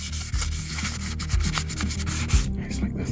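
Steady close rubbing rasp of sanding paint smooth on a Jaguar XJS V12 6.0 cylinder head, continuous back-and-forth scraping with light knocks, no talking.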